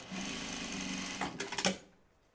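A sewing machine stitching a jean skirt, a quiet steady rapid whir followed by a few sharper clattering stitches before it stops, no voices.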